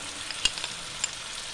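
Peanuts and raisins drop into a pan of sautéed vegetables, giving a soft, steady sizzle with a few brief clicks and stirring taps, quiet and close.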